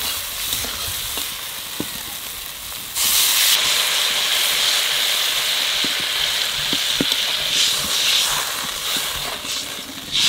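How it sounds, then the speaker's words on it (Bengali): Water hits hot spices (salt and turmeric) frying in a pan for a stingray fish curry, bursting into a loud, steady sizzle and hiss that surges abruptly about three seconds in and keeps steaming on, with no talk. "মশলা কষানো হয়ে গেছে এইবার জল দিয়ে দেবো"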